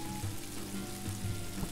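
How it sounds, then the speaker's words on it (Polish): Burgers frying on a griddle in the video game Octodad, a steady close sizzle running throughout with no talking. "będziemy smażyć burgery"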